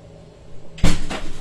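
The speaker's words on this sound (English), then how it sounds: "Okay, I'm gonna close the door." A door swings shut with a single solid thud, followed by a short rattling knock as it settles, in an otherwise quiet room.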